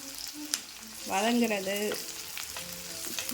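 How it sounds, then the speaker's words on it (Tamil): Chopped onions sauté in a pan for a broad bean (avarakkai) stir-fry, giving a steady, close sizzle with a brief tonal sound rising over it midway. "வெங்காயம் நல்லா வதங்கணும்."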